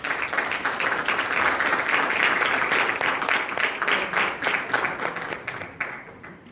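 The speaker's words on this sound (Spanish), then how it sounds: "Un aplauso, por favor." Warm, continuous applause from an audience at an inclusive education gathering as a speaker is welcomed onto the stage, full and close before tapering off at the end.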